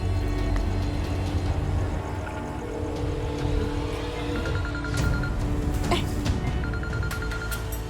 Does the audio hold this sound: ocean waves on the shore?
no